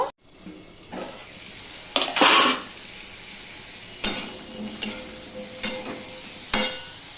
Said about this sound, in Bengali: এবার যে আমি কেটে ধুয়ে রাখা আলুটা আমি দিয়ে দিচ্ছি এবার আমি একটু ঢাকা দিয়ে দিয়ে ভেজে নেব